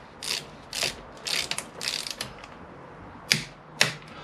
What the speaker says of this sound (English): So I've got the torque wrench set.